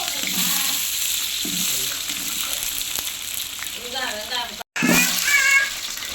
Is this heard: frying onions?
yes